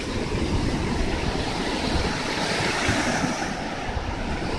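Waves roll onto Higashihama Beach in Tottori, Japan, a steady, full wash of surf that never lets up and is mixed with some wind rumble, with no voices.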